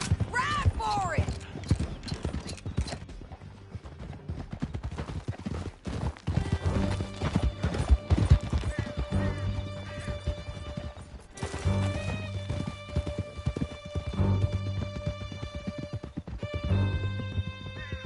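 Horse galloping in Red Dead Redemption 2, rhythmic hoofbeats pounding steadily throughout with a whinny early on, mixed under game music and intermittent character dialogue.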